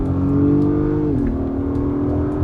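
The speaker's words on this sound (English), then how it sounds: "Immediately you hear it revving up, and we're gonna give it one quick blast here." An Acura MDX Type S engine switched into Sport mode revs in one loud, steady blast, its pitch holding high and then dipping slightly partway through, with continuous close-up engine roar and no talking.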